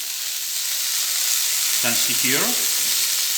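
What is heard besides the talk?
broccoli and sea spaghetti sizzling in a pan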